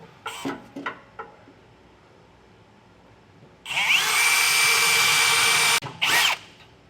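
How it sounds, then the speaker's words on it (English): A power drill fitted with a pilot bit bores into a steel truck bed for a gooseneck hitch install, with a loud, sustained high whine of roughly two seconds and a short second burst, after a few light knocks and handling sounds. "Now we're going to take our drill with a pilot drill bit and come up to each one of our 4 holes"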